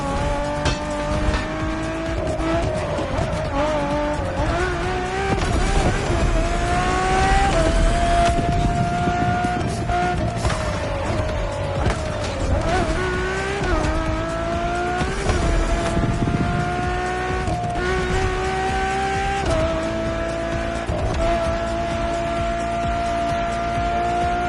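A Ferrari road-legal hypercar in The Crew Motorfest screams through its gears, the engine note rising and dropping with each shift, tires squealing through corners, loud and close throughout.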